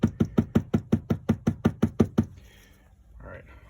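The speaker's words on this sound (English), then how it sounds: "I just want to tap it out on the workbench" A Briggs and Stratton generator carburetor rapped against a workbench about a dozen times in a steady, quick rhythm of sharp, close knocks, then a brief quiet clatter afterward.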